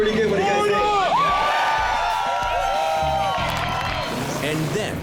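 At a custom motorcycle unveiling, a large crowd cheers, whoops and claps in a loud, continuous wash, with whistles and shouting voices on top.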